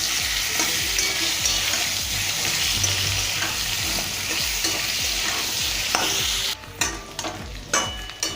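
Boiled potatoes fry in hot oil with turmeric and salt, a loud continuous sizzle broken by regular scraping stirs, with sharper clatter and bursts near the end.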